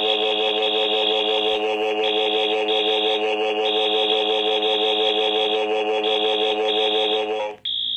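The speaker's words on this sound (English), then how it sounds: "the fire alarm rung" A loud electronic school fire alarm blares continuously in a harsh pulsing buzz, then cuts off abruptly near the end.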